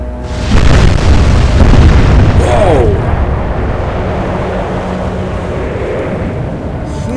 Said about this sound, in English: Huge explosion destroying the superstructure.